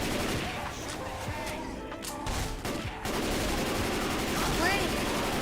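Rapid bursts of gunfire in the Left 4 Dead 2 game, aimed at a tank zombie, run continuously and loud through the whole stretch, with shots layered over busy game noise and voices talking in the background.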